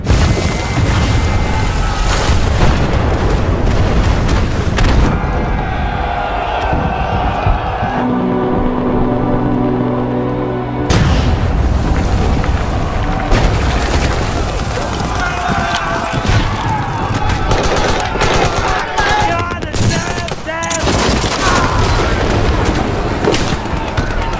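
Explosions and gunfire in a World War I trench battle form a dense, loud barrage of booms and shots with a brief calmer stretch in the middle, and voices can be heard shouting through the noise.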